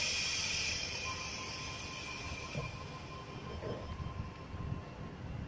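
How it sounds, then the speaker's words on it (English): A Tangara electric suburban train pulls away from a station platform, a low steady rumble of wheels and motors with faint squeals, heard from nearby at moderate volume. "Waterfall service headed by Tangara set T126. Now departing from platform 4 here at Carlton."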